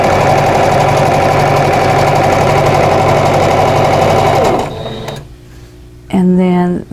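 A sewing machine runs steadily, loud and close, stitching white and yellow quilt squares together for a tulip quilt block, then stops abruptly near the end, followed by a brief burst of another sound.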